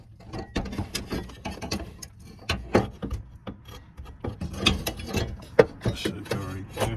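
Bolts are hand-tightened on the upper fender bracket of a 7th-generation Nissan Maxima: close, irregular metallic clicks, scrapes and rubbing of threads and tools, steady and moderately loud throughout.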